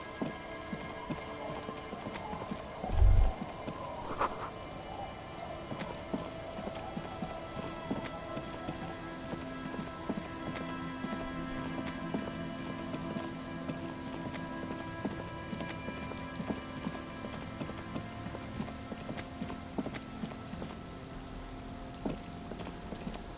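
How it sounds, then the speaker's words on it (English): Steady rain falls in the video game Disco Elysium, a soft continuous patter spread evenly through the whole stretch, with one brief low thump near the start and no voices. "It's getting late, and it's raining."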